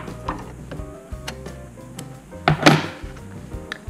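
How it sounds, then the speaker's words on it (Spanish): A sewing machine with a roller presser foot labors to feed fabric, giving an uneven run of mechanical thunks and ticks with a louder clunk near the end, close and without talk. "Veo claramente que no estoy cosiendo bien, simplemente por el sonido de la máquina"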